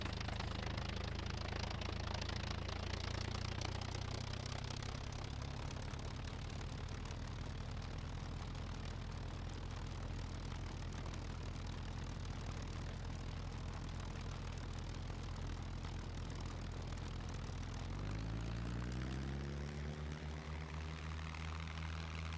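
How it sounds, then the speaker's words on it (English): In the video game SCUM, a seaplane's propeller engine runs as a steady loud drone and hum with no talk, rising in pitch near the end as it speeds up. "Just like that, we got a seaplane."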